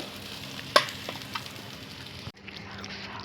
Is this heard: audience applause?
no